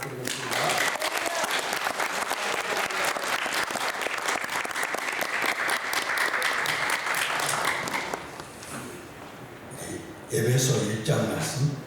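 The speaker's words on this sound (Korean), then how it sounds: "우리 박열 목사님 숫자 박수로 부탁드리겠습니다." Church congregation clapping loudly and steadily for a pastor during a service, the applause fading after about eight seconds before a voice speaks and a brief burst of sound returns.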